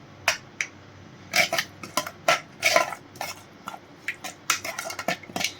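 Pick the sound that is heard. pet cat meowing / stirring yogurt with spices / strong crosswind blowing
stirring yogurt with spices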